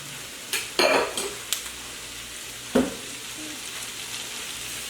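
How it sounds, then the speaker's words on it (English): Cabbage sizzling in just a little oil in a pan, with a steady soft fry broken by several clattering stirs and scrapes as the pieces are turned. "I'm constantly going to turn them in the oil."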